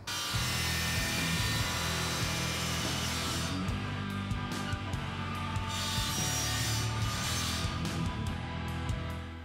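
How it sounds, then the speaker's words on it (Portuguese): A circular saw cuts through wood up close, a steady droning whine with a gritty rasp that continues without a break. "como eu não tenho uma serra fita, eu vou usar a minha serra circular"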